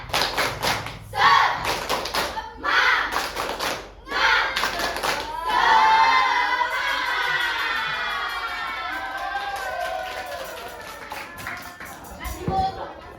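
A class of students doing a rhythmic 'tepuk semangat' clapping chant in a microteaching lesson: several loud, evenly spaced bursts of group claps, then voices shouting and cheering together before it fades.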